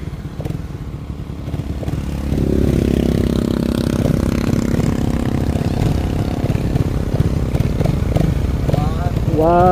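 Motorcycle engine at a street drag race between a Raider Fi and an Aerox, idling low at first, then swelling into a louder sustained rumble, with people talking nearby.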